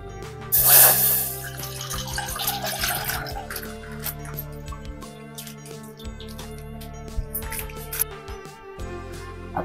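Water pours into a cooking pot ahead of boiling a litre of milk for homemade curd, a steady running splash lasting throughout. It is loudest at the start and carries on beneath faint background music.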